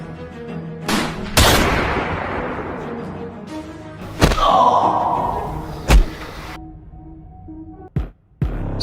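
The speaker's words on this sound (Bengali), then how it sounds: "পিছন থেকে তো গুলি মারলো" Sharp gunshot-like bangs in a staged drama scene ring out one after another, several loud blasts with booming tails and a couple of quick thumps near the end, alone without talk.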